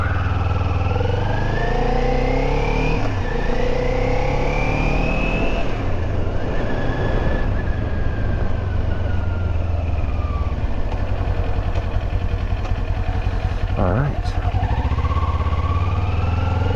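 A 2022 Kawasaki Z400 motorcycle is ridden close up, its engine droning steadily and rising in pitch through several accelerations, with loud wind rumble running underneath the whole time.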